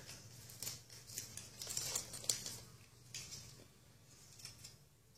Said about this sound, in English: you can't see it right now because I'm peeling the tape off